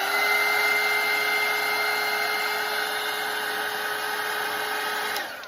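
A hair dryer blows steadily on a watercolour painting of a snowman, a loud, continuous whirring hum that holds level before cutting off abruptly near the end.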